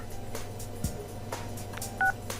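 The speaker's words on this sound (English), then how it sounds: "Oh, your phone is ringing." Phone ringing in the video game Persona 4, heard as short electronic telephone tones in a bright, repeating pattern over soft game background sound.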